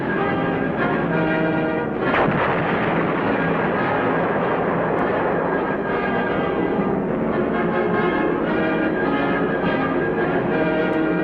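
Gunfire and explosions as the minesweeper USS Penguin comes under attack, a dense roar of blasts with a sharp loud burst near the start and continuous rumbling fire beneath, heavy and chaotic throughout.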